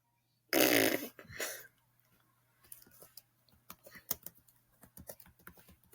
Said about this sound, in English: So you may hear a lot of typing.